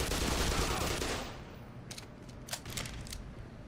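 A grenade blast in a shooter game gives a broad, loud rush of noise that fades, followed by several sharp, quieter gunshots.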